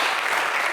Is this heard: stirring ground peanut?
no